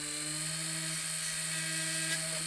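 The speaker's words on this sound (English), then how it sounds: "You'll get to a point where the ball burr sinks in pretty quick, depending upon how deep the drill bit is actually broke off in the metal." A ball burr spins in a rotary tool, drilling out a broken drill bit lodged in metal, giving a steady, unbroken high-pitched whine that holds at an even level throughout.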